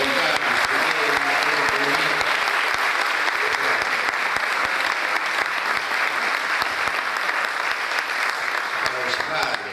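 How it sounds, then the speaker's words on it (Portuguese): Sustained audience applause for volunteers at a Sunday roundtable gathering, dense steady clapping from a large crowd lasting throughout without a break. "Grande com a salva de palmas para os voluntários."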